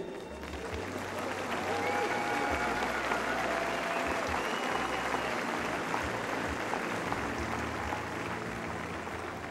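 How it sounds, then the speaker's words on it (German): The audience applauds at a horse show in Warendorf, a sustained, even roar of clapping across the arena while a commentator talks over it through a loudspeaker. "Großer Applaus vom Warendorfer Publikum"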